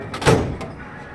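A drawer of a Snap-on KRSC430 service cart slides along its runners in one short, close rolling movement ending in a soft knock.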